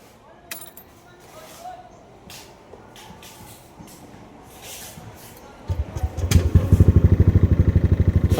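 Yamaha Nmax 155 scooter with a check-engine fault, cranking and then catching into a near, rhythmic idle that runs steadily to the end after a quieter stretch of shuffling and clatter.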